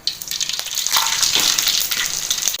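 A steady, crackling sizzle of mustard seeds frying in hot oil, close and fairly loud, with no voices.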